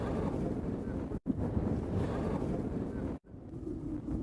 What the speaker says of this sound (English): we're sailing quite happily with the trysail